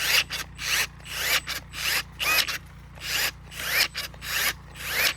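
A Milwaukee M12 cordless pruner struggles through a wet, live maple branch about an inch and an eighth thick, giving a series of close, rough grinding bursts broken by short pauses.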